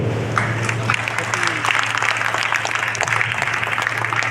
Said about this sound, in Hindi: सबके सम्मान में बढ़िया वाली ताली दोस्तों, बढ़िया वाली ताली